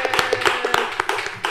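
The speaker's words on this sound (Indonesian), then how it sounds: "Sekali lagi tepuk tangan." A small podcast audience claps briefly, with a quick run of overlapping hand claps close by and no speech.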